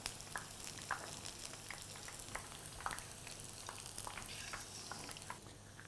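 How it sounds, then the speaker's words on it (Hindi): Drops of sweet boondi batter fry in hot oil, giving a steady, fairly quiet sizzle with scattered small crackles and pops throughout and no talking. "इसे अच्छे से हम फ्राई कर लेंगे।"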